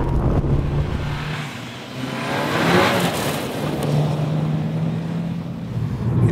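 Audi S1 engine revving, a loud close-up rasp that swells and dips in pitch, with a throaty low note running underneath for several seconds.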